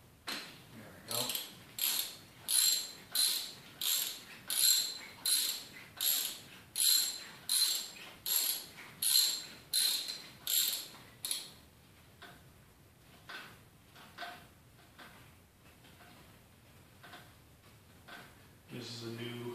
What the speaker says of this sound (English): it's easy to get in there with a regular spark plug wrench